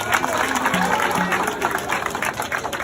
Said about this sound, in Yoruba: Ẹ bá mi pàtẹ́wọ́.